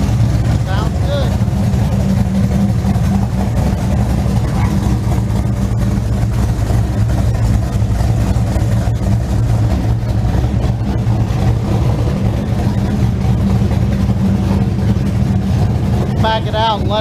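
A small block Chevy V8 in a Trans Am idles steadily around 900 rpm after a valve spring install, a loud continuous low rumble throughout with a voice talking over it and occasional higher yaps near the end.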